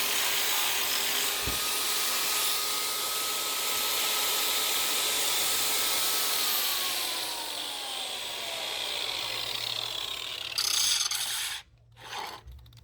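An angle grinder works steadily on a steel splitting-wedge support for a log splitter, a loud continuous whine with shifting pitch that tapers before cutting out near the end.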